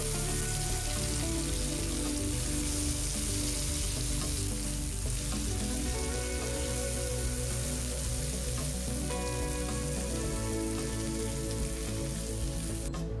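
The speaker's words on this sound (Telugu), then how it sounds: "ఇప్పుడు ఇందులో మనం కట్ చేసుకున్న టమాటాని వేసుకొని ఒక నిమిషం వేపుకోవాలి" Chopped onions and tomato frying in a pan for a groundnut masala, giving a steady, dense sizzle that runs loud and unbroken throughout with no talking.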